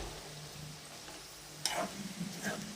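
Potatoes frying in a pan for aloo fry are stirred with a utensil, a soft steady sizzle broken by a couple of brief scraping clinks close by, with no talk.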